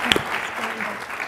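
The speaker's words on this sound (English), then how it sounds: "So let's give Peter a round of applause." Brief burst of audience applause after a conference talk, a short patter of clapping from the room at moderate level, lasting just over a second.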